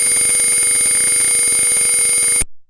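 A simulated Arduino circuit in TinkerCAD sounds its buzzer: a loud, steady electronic tone with a rich harmonic edge holds for about two and a half seconds, then cuts off abruptly.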